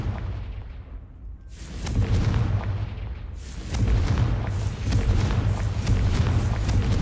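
Booming blasts from the Confringo explosion spell in Hogwarts Legacy roll out in loud, rumbling bursts, one after another, with no voice over them.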